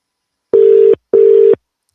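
A telephone ringing tone on a call, two steady electronic pulses about half a second each with a short gap, clear and close with no talk.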